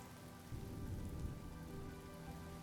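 Steady rain falling and pattering on surfaces, a soft continuous wash of droplets that stays even throughout, with no voices.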